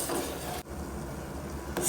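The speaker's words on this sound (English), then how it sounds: "Give it a stir." Milk with cinnamon powder is stirred in a pot for bread pudding, a steady close scraping swish of a spoon with a brief pause mid-stroke.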